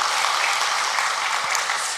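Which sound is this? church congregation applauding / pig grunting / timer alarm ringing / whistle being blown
church congregation applauding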